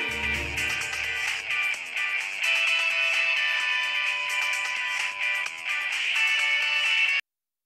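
A phone ringtone plays a bright, continuous electronic melody for about seven seconds at steady loudness, with no talk over it, then cuts off abruptly.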